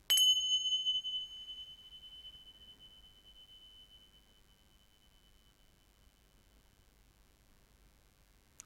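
Small bells struck once to clear energy, giving a bright, clear ring that fades slowly over several seconds into near silence, with a faint tap at the end.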